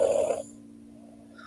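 One short snore from a sleeping person during an overnight live-streamed build of a LEGO castle set, rasping briefly at moderate level before fading into near silence.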